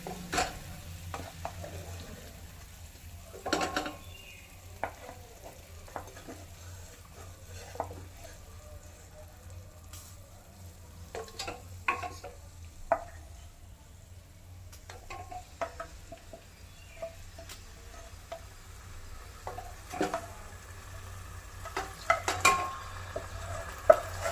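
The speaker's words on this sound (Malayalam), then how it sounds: "നമുക്കിത് കുക്കറിനകത്ത് മാറ്റാം" Mutton mandi being scraped and stirred into a pressure cooker with utensils, occasional clanks and a low sizzle underneath, no talking, steady over a long stretch.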